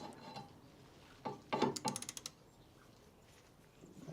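A 13mm ratchet wrench works loose an alternator bolt behind the anti-roll bar of a Jaguar XK8, giving a quick burst of sharp metallic clicks and taps close by, followed by quiet.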